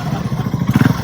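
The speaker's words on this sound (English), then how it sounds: "So we spotted this build of this sport bike that got turned into a trike" A sport bike converted into a trike being ridden, its engine giving a loud, close, pulsing throb over about a second.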